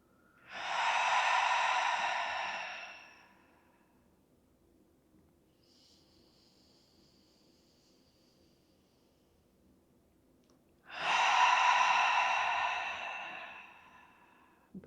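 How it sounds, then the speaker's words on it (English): Slow yoga breathing: two long, airy breaths, one near the start and one near the end, each rising and then trailing off, with near-silence between them. "Long inhales. Long exhales."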